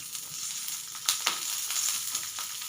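Garlic sautéing in a little hot oil for a soup, giving a steady close sizzle with a few sharper spits and crackles as it hits the pan, no talking.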